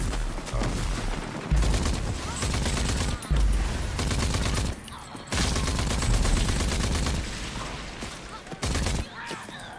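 Dense bursts of rapid automatic gunfire from the shooter game Rage 2, loud and close, come in long sustained volleys broken by brief pauses, with a voice talking now and then underneath.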